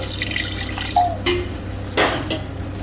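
Hot water splashes and gurgles steadily into a pan of curry with cashew nut paste, with a few clinks and bubbling pops close by.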